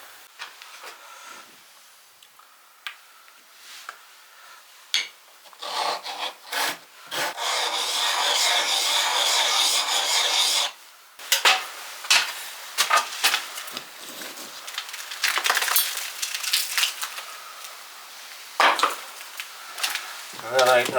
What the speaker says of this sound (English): So I'm going to split that packer just down there and reassess it.